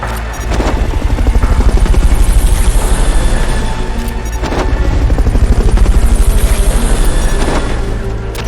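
Helicopter from the Fulton recovery sequence in Metal Gear Solid Peace Walker: loud, steady rotor chop with a deep rumbling drone, swelling and dipping over several seconds, with heavy booming impacts throughout.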